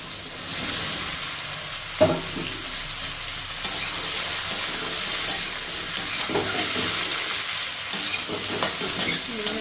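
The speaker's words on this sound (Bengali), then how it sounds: "এবার আমি ওতে মাশরুমটা ভেজে নেবো" Mushrooms fry in hot oil in a pan on a gas stove, a loud, dense, continuous sizzle and crackle close up, with occasional utensil knocks and stirring scrapes and no talking.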